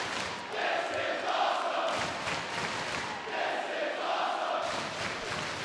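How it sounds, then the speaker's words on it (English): A large wrestling crowd in New York City chants rhythmically in a loud, sustained roar, two swelling waves of massed voices filling the arena with no commentary over them. "I wanted to give everybody a chance to hear this great crowd here in New York City chant, "This is awesome,""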